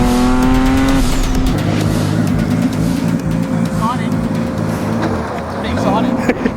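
Nissan R33 GT-R LM with 30 pounds of boost revving hard on a street drive, engine note cutting sharply and snapping back during flat shifts at 8,000 RPM, loud and close with exhaust crackles.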